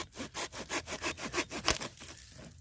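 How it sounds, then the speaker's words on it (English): Silky Bigboy Outback or Pocketboy 130 pull-cut saw drawn through wood, a fast rhythmic rasp of about a dozen strokes, each pull a bright scraping burst, close and loud with no talk. "Now this is a pull cut saw, so you will pull instead of push when cutting."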